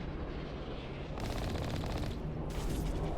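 Rapid automatic gunfire aimed at the player in the video game Mass Effect Legendary Edition, coming in dense bursts of shots that start and stop, loud and close.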